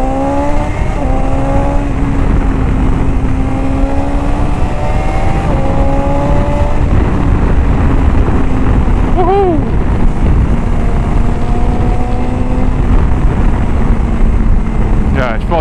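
A litre-class sport-touring motorcycle on a road test, either a BMW S1000XR or a Suzuki GSX-S1000GX, roars loudly close up. The engine note rises and drops through gear changes over constant wind rush.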